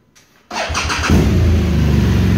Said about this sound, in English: Let me just fire it up.